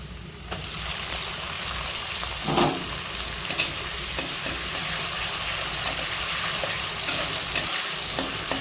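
Potatoes for aloo bhaja fry in oil in a pan over a low gas flame, giving a steady close sizzle broken by a few stirring scrapes and clinks.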